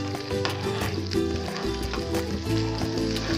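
Tadka tempering for dhokla sizzles and crackles steadily in a hot pan, a dense continuous frying hiss heard up close, with a faint musical bed underneath and no talking.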